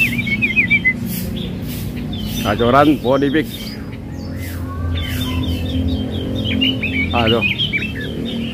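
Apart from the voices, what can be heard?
songbirds calling, wambi mini (robin) at bird market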